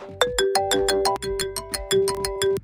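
A phone ringback on an outgoing call plays a quick repeating melodic pattern of sharp electronic notes, loud and close, with no talking.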